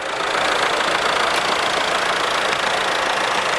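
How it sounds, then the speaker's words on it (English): A Massey Ferguson 1200 four-wheel-drive pivot-steer tractor idles at a steam rally, its engine a loud, even, continuous drone heard close with no speech over it. "This is a 4-wheel drive Massey Ferguson 1200,"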